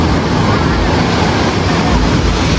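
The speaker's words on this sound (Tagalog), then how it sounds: "Ang lalaki ng alon eh." Big ocean waves breaking on the surfing beach at San Juan, La Union, Philippines: a loud, steady roar of surf mixed with wind buffeting the microphone, with no pauses.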